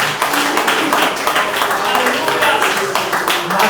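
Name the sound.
audience clapping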